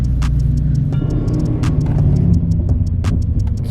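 A BMW M6 V10 engine cold starts and rumbles at a low idle with a throbbing hum, and sharp clicks and clanks sound over it.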